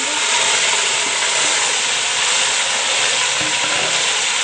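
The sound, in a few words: boiled chicken frying in oil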